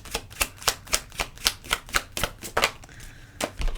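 Tarot cards being shuffled by hand, a steady run of about a dozen crisp, close papery slaps and riffles at a brisk even rhythm, with a short pause near the end before the last few.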